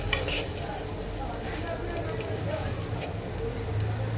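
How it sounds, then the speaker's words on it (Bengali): Prawns and jute greens fry together in a pan, a loud close continuous sizzle with light stirring, no one speaking over it. "তো চলো সবকিছু একসাথে সুন্দর করে একটু হালকা ভেজে নেই।"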